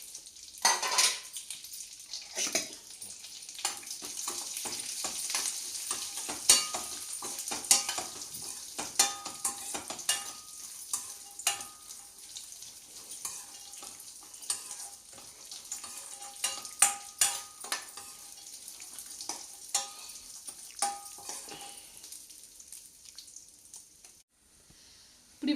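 Chopped cashews and dry fruits fry in a pan on a low flame, giving a soft, continuous sizzle broken by scattered clinks and scrapes of stirring, with no talking.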